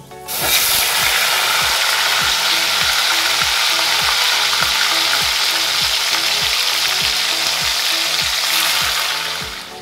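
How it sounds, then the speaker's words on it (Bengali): Marinated chicken pieces with cardamom fry loudly in a hot pan, a dense continuous sizzle with regular clicking pops underneath, close and uninterrupted by talk. "ম্যারিনেট করা চিকেনটা আমি দিয়ে দিচ্ছি খুব আস্তে করে।"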